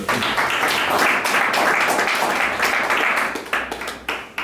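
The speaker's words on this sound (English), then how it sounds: "let's give her a big round of applause" An audience claps for Joyce Kumwani at a tournament announcement event, a brisk round of many hands applauding nearby, fairly loud and even before thinning out toward the end.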